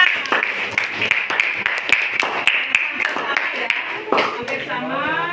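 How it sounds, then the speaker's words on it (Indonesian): Students clapping in a classroom for a presenting group, scattered sharp claps at an uneven rhythm, close and fairly loud, with voices talking over them. "Dari tepuk tangan untuk kelompok kanan."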